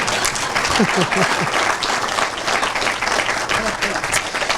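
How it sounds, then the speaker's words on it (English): An audience at a golf clubhouse dedication claps for Dr. Hawkins, a steady, dense round of applause with a few voices talking and calling out underneath, loud and close throughout. "Can y'all clap for Dr. Hawkins, please, for me?"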